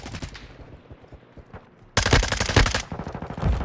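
Rapid automatic gunfire from a weapon in Call of Duty Modern Warfare 2 (2022 beta), bursts of shots throughout that turn much louder and denser partway through, close and dominant.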